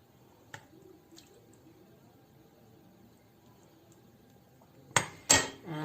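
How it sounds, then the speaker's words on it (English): Vegetable soup ladled over rice noodles in a bowl: near-silence with a couple of faint clinks, then a loud splash and pour at the end. "And then I'm going to spread the soup all over the noodles"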